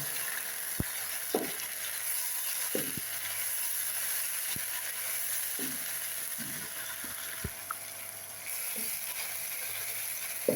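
Green chili and garlic paste fry in a pan with a soft continuous sizzle, punctuated by sharp clicks and scraping strokes of a spoon at irregular intervals.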